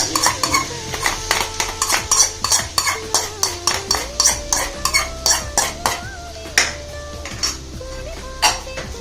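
Rhythmic scraping and clinking of a metal spoon stirring a hot tempering into cooled tomato thokku relish in a pan, steady repeated strokes over a faint sizzle and a background tone.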